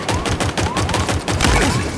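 Rapid automatic gunfire from Halo Infinite multiplayer, loud and close, a fast rhythmic burst of repeated shots with brief gaps that keeps going for the full two seconds.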